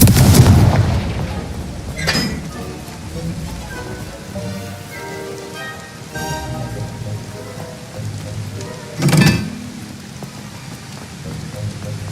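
Fiery spell blasts from Hogwarts Legacy go off in sharp bursts, two strong booms a few seconds apart among rumbling game ambience, with no voice over them.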